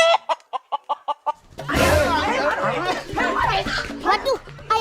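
A chicken clucks in a quick run of short, sharp calls, then excited voices talk over it loudly while the chicken is chased.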